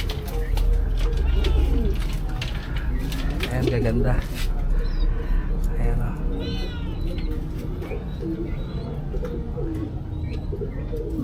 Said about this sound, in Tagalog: Ito yung mga ibon niya